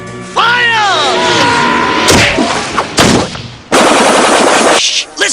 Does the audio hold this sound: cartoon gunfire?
yes